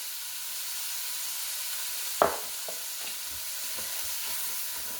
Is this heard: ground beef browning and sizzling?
yes